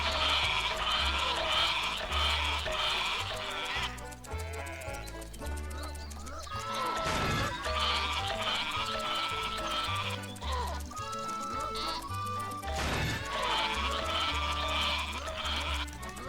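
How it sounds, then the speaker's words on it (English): Sheep bleat repeatedly in the video game Rayman Raving Rabbids when a rabbit is shot too many times, the bleats mixed with game music and clattering effects throughout. "they make sheep sounds if you try to shoot a rabbit too many times"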